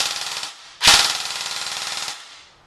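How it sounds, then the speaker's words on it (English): A KWA KM4-SR5 airsoft rifle fires on full auto in two loud, close bursts, a short one and then a longer one of about a second and a half, each a fast, even rattle of shots with no voices. "If we go to full auto, the rate of fire on this is 20 rounds a second. So just listen to this."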